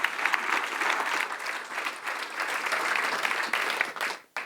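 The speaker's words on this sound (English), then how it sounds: "I don't think I deserve that much applause." An audience applauds a speaker from the Brain Treatment Center at an event on veterans' brain healing, sustained full clapping that thins out and drops away near the end.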